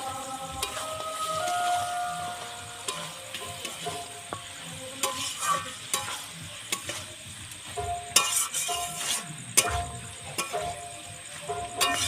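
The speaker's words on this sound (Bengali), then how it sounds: "এবার মাংসটা দিয়ে দেবো দিয়ে ভালো করে কষিয়ে নেবো" Mutton pieces being sautéed with cumin in a hot pan: a steady, close sizzle broken by repeated scraping and clattering stirring strokes, with no talking.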